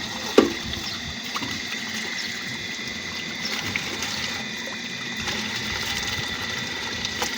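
An electric water motor pump runs steadily at a house being washed, a constant mechanical hum with water trickling and splashing throughout, close and fairly quiet, with no talk.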